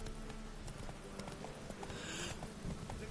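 Roach the horse's hooves clip-clop in a steady walking rhythm in the video game Witcher 3, set against a soft ambient game background with faint scattered sounds.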